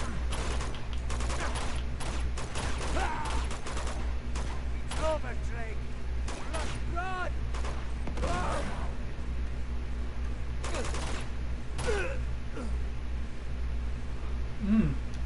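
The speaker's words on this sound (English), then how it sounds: "Two shots and they're dead." Gunshots in the video game Uncharted 2 ring out as a scattered series of sharp cracks over a low background hum, some clustered in quick bursts, with faint voices and mechanical clicks between them.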